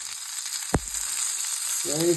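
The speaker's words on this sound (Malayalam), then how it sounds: "ഇതിന് ഇതിൻ്റെ കുറച്ച് വേപ്പിൻ്റെ ഇല ഇട്ട് കൊടുക്കുകയാണ് അതാ റെഡി ആയിക്കൊണ്ടിരിക്കുകയാണ് മൂത്ത് വരുന്നുണ്ട്" Fish fries in oil with curry leaves, a steady close sizzle with a brief clatter partway through and a short voice near the end.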